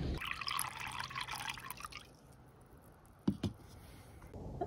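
Lukewarm water pours for matcha as a steady trickling stream for about two seconds, then stops, followed by a couple of faint clinks and light handling noises close by.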